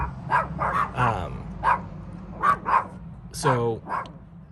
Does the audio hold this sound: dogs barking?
yes